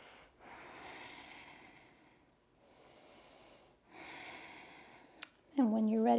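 Slow, audible breaths during a yoga side lunge stretch: three long, soft airy exhale-like swells, close and quiet, followed by a brief sharp click and a louder burst at the end.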